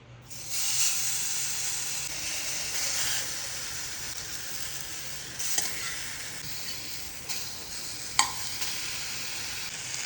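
Pineapple slices toast in a little oil in a hot pan, giving a steady close sizzle and hiss with a few soft scraping stirs.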